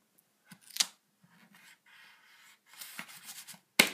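Scissors snip through chocolate packaging in a few sharp, close cuts, with soft crinkling and rustling between them and a louder final snip at the end.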